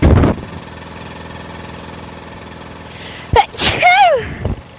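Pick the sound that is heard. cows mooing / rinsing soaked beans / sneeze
sneeze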